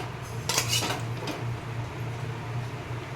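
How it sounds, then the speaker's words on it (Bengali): A pressure cooker holding boiled chickpeas is opened with a quick metallic clank and rattle of the lid, followed by a low steady hum in a quiet kitchen. "আমি প্রেশার প্রেশার কুকারটা খুলছি এবং তোমাদের দেখাচ্ছি"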